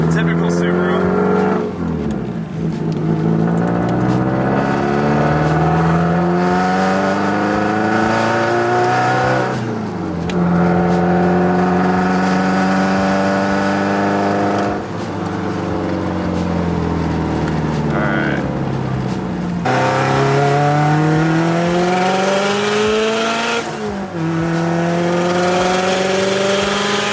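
A 2002 Subaru WRX turbo engine revs hard in repeated rising pulls to build boost, loud and close, each sweep climbing in pitch before dropping back to idle.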